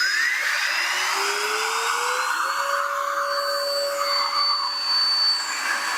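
Makita 18V LXT cordless air duster blowing continuously, a loud close whine that climbs steadily in pitch as the motor spins up, then holds a steady high-pitched rushing tone.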